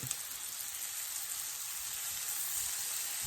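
Shrimp sizzling in butter in a pan for a Cajun shrimp and grits dish, a steady, close crackling hiss that holds evenly throughout with no talking.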